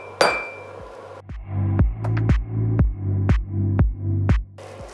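A blacksmith hammers hot metal to forge-weld it with flux at a demonstration: roughly nine heavy ringing strikes land in a steady rhythm, each one close and loud with a clanging metallic resonance.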